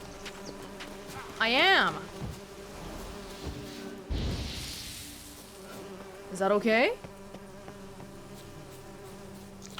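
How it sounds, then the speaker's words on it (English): Bees buzzing around the player in The Witcher 3: Hearts of Stone, with two short, close buzzing passes rising and falling in pitch, a person talking in between. "Am I being attacked by bees?"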